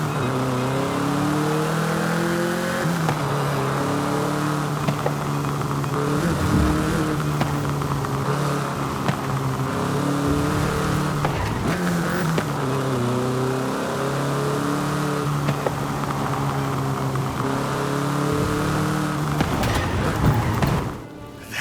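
A Volkswagen Beetle (Vocho) engine drones steadily in the racing game Forza Horizon 5, its pitch climbing and dropping through repeated gear changes and throttle shifts, loud and close throughout with no talking.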